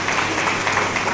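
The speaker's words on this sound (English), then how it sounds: "and then we can clap for the First Lady." Audience applause for the First Lady at a Nigerian launch event for an organisation of African First Ladies: a brief wash of dense, distant-sounding crowd clapping, steady and even throughout.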